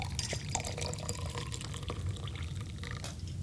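Warm water is poured into a cup, a trickling, splashing stream with scattered drips and small clinks that runs steadily for a few seconds, close up and with no talk.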